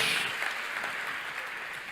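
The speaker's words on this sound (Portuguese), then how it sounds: "Dá uma salva de palmas a Yeshua HaMashiach" A church congregation applauds during an online service, a steady wash of clapping held at an even level throughout, with faint speech beneath.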